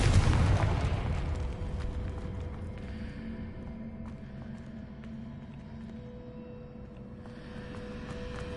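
A Confringo blast spell goes off in the game Hogwarts Legacy, a loud, deep explosive boom that hits at once and fades into a long rumbling tail and low ambient hum.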